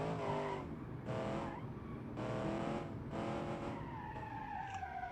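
A sports car engine in the video game BeamNG revs hard through repeated dual-clutch gear shifts, each rising whine cut off by a brief drop, loud and close.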